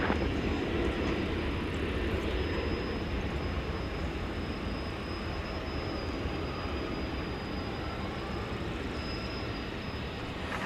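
A 23-year-old American Airlines Airbus A320, flight 3053 from Eugene, Oregon, arrives at DFW airport at night, its engines a steady broadband roar with a faint high whine, loud and continuous throughout.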